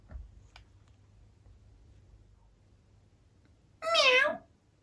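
A person imitates a cat with a single drawn-out, wavering meow near the end, loud and close, after several seconds of quiet room tone.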